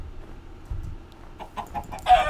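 A chicken in the video game Minecraft gives a few short, quick clucks, soft and close, spaced over the final second and followed by a brief louder burst.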